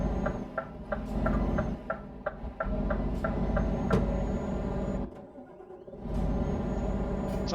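A truck engine in Euro Truck Simulator 2 rumbles with a rhythmic ticking, then drops away briefly into near quiet before roaring back to a loud, steady drone.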